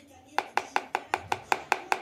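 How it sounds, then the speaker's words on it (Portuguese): A spoon beating a sweet, Nutella-like mixture in a bowl gives eight evenly spaced, sharp, close knocks in a fast, steady rhythm over faint room noise. "Vou bater mais um pouco."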